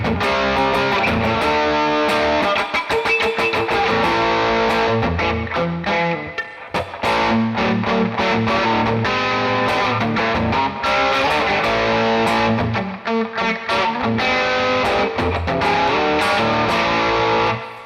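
Electric guitar played through a NUX amp with effects, send/return loop and reverb, a loud distorted run of chords and riffs with brief pauses and ringing reverb tails, no voices.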